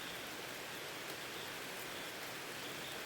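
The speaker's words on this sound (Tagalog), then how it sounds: "Lumalakas na ulan mga kautot." Heavy rain pours steadily in an outdoor setting, a dense, continuous broadband hiss of drops on surfaces that holds loud and even throughout, with no voices.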